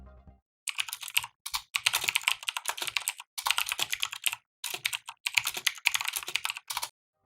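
Typing on a Durgod K320 tenkeyless mechanical keyboard with Cherry MX Silent Red switches, close-up bursts of rapid soft key clatter separated by brief pauses, with no talking.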